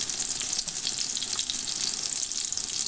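Zucchini sautéing in a pan with a little olive oil, a steady bright hiss and crackle of frying that holds evenly throughout, close and fairly loud with no voices.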